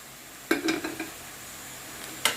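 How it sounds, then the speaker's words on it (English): Tomatoes drop into a pan with a quick clatter of clinks and knocks, followed by soft stirring scrapes and a faint sizzle, then one more sharp clink. "The next thing we're going to add is our tomatoes"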